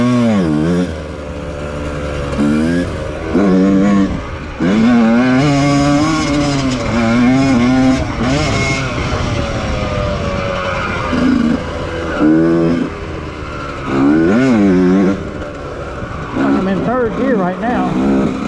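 A Yamaha YZ 125 two-stroke dirt bike at Echo Valley, its engine revving up and down loudly and close in repeated rising and falling bursts, with wind buffeting throughout.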